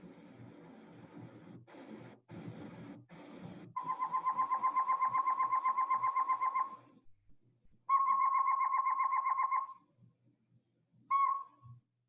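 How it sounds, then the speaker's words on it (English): Cactus ferruginous pygmy owl of the Sonoran Desert, a tiny nocturnal owl, giving rapid runs of evenly repeated whistled toots in two long series and a short burst, clear and fairly close, after some rustling background noise. "This is about 3-inch tall owl, and as we all know, owls are nocturnal hunters."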